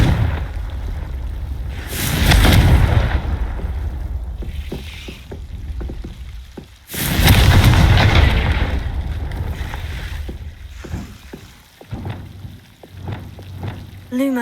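Fire spell explosions go off in Hogwarts Legacy, two loud roaring bursts a few seconds apart, each trailing into crackling debris and smaller pops.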